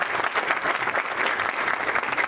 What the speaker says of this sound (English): let's give ourselves a wonderful applause for all of this